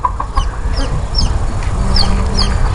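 Chickens in a backyard aviary cluck repeatedly in short, close, fairly loud calls over a low rumbling background.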